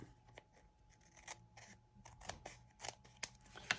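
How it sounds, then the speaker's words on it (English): Scissors trim paper for a junk journal belly band in a series of faint, irregular snips that gather pace and grow louder toward the end, with no talking. "I am going to trim that."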